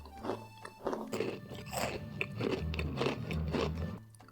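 Crunchy brownie cookies are bitten and chewed close to the microphone, a series of sharp crisp crunches and crumbly grinding bursts in quick irregular rhythm.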